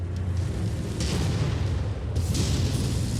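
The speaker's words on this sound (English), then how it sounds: "Incoming missile." Missile strikes on a mech in the video game MechWarrior, heard as deep rumbling booms with a couple of sharper bursts, one about a second in and a heavier hit near two seconds, over constant low engine rumble.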